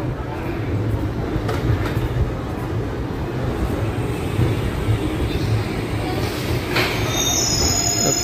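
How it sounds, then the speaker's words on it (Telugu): A passenger train brakes into Guntur Junction railway station, its wheels grinding and rumbling on the rails, with a shrill metallic squeal rising near the end, loud and close. "ఓకే, ఆపాడు బండి ఆపాడు"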